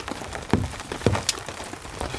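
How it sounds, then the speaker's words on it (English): Heavy rain blowing against a tent and tarp during a camping night, a steady patter with a few louder drops and thumps standing out close by. "the rain's blowing like directly in at the tent"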